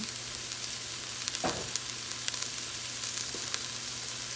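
Cabbage sizzles in a hot pan at a soft, steady level, with a few light stirring clicks and scrapes.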